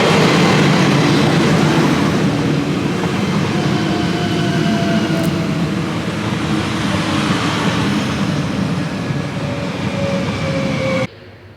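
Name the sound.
riding on a train in France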